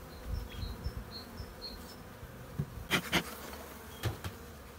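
Honeybees at a hive emerging from a capped brood frame, giving a faint, steady buzzing with a few louder bee passes near the microphone midway and toward the end.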